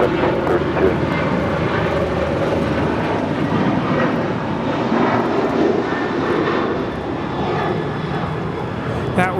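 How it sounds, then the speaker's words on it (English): Alaska Airlines Boeing 737-900ER departing LAX for Seattle, a loud, continuous jet engine roar at takeoff power holding steady throughout, with a voice faintly underneath. "That was Alaska Airlines 1147 departing to Seattle on a 737-900ER"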